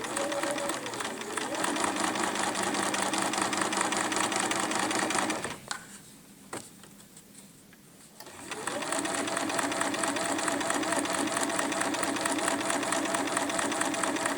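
A sewing machine stitches a seam, starting with a back stitch, its motor whirring in a loud steady drone up close, then stopping briefly for a few seconds before starting again at the same pace.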